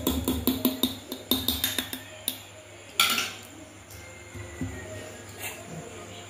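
A spoon clinks and scrapes against a bowl while milk is stirred into yogurt for a sweet mango yogurt, a run of sharp rhythmic taps, then a louder knock and softer occasional scrapes.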